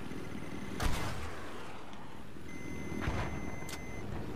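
Two sharp game gunshots crack out over a steady noisy background, one early and one later, each with a brief ringing tail.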